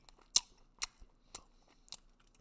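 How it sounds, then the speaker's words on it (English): Meat being chewed close to the mouth, with four distinct crunchy bites spaced about half a second apart over quiet, soft mouth sounds. "Me chewing on this meat?"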